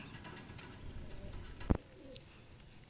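Madrasi high-flying pigeons kept for sale in Kolkata coo softly in a low, steady murmur, with one sharp knock partway through.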